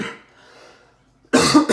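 A single short, loud cough bursts out near the end after a moment of quiet, preceded by a faint murmur.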